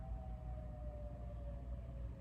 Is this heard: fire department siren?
yes